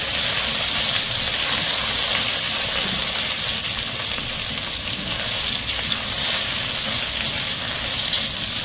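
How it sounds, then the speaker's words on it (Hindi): Ginger garlic paste sautés in a hot pan for a masoor pulao, giving a loud, steady, close-up sizzle that hisses without letup. "जिंजर गार्लिक का पेस्ट डालते हैं, और इसे 1 मिनट तक सौटे करते हैं"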